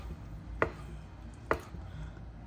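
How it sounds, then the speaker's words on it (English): A knife cuts octopus tentacles into rings on a board, giving two sharp, close chops spaced about a second apart over a low steady hum. "So we're gonna cut them all like that"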